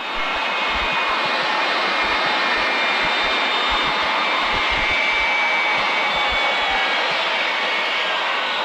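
A hydroplane's jet engine roars steadily at close range with no afterburner lit, a dense, sustained blast of turbine noise and exhaust rush that holds level throughout with no voices.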